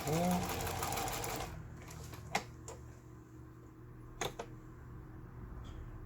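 A Jaguar household sewing machine running a quilting zigzag stitch makes a dense, even mechanical whir at the start, then goes quieter with a few sharp clicks and taps.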